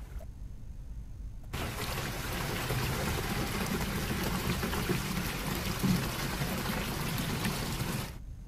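Muddy, silt-laden drinking water gushes steadily from a household tap in a continuous broad splashing rush, close and unbroken for several seconds with no voices.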